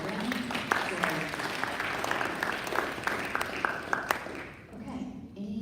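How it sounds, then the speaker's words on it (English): Applause from members at a Norman Rotary meeting, a broad steady patter of clapping heard under a speaking voice, dipping briefly near the end before picking up again. "Please give Greg a round of applause."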